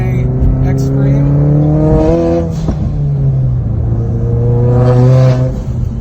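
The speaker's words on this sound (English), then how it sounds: "Hear the exhaust note. This is the Tomei Extreme." A loud Tomei Extreme exhaust on a Turbonetics-turbocharged car revs up and falls back twice, deep throaty rumble rising in pitch with each blip, close by.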